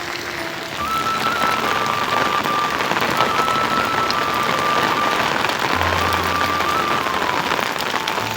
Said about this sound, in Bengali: জানি না কখন বৃষ্টি থামবে।